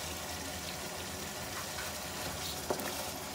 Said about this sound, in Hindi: टमाटर डाल देते हैं।